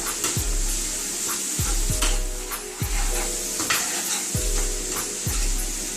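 Cabbage soup ingredients seasoned with garlic powder, onion powder, kosher salt and pepper sizzle steadily in a pot, loud and close, while a spoon knocks and scrapes against the pot roughly every second.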